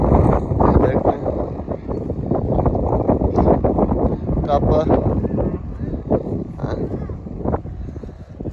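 Strong wind buffets across an open grass field in a Pakistani village, roaring steadily and loudly throughout while someone speaks over it.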